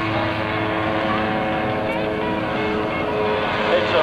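An ultralight aircraft built from old TV antennas and bed sheets, powered by a weed whacker engine, flies during wingwalking at an airshow. Its engine makes a steady, buzzing drone throughout.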